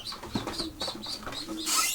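Racing pigeons, including birds of the Jansen line, cooing softly close by, repeated throaty calls with light rustling and a brief flutter at the end.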